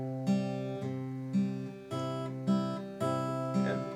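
Guitar plays the chorus of a song, with a short pickup at the start, as steady repeated chords. Each one swells and then rings out in an even rhythm, quiet and close.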